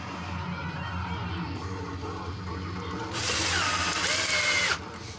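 A power drill drives screws into a Global Truss LCD stand's improvised mount bracket, whining steadily for about a second and a half, over loud music playing in the room.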